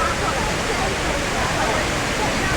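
A 130-foot indoor waterfall at Changi Airport pours in a dense, constant roar of falling water, loud and broadband, with a faint murmur of voices beneath the rush.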